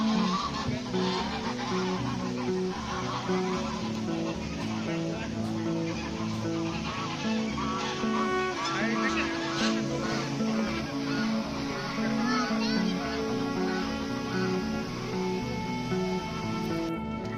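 Ducks squabble and honk loudly at a park attraction in Hyderabad, a dense, continuous din of goose-like honking calls with other birds and a busy crowd murmuring behind.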